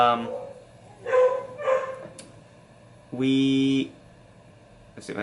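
A dog barks in a home, several loud separate yips and barks spaced a second or two apart, with a longer whining bark near the end, close to the microphone.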